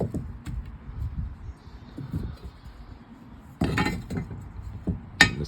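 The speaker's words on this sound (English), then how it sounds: "Put the lid back on." Lid of a Char-Broil cast iron smoker box set back in place, metallic clinks and taps scattered over a few seconds, with a louder clatter midway and a sharp clank near the end.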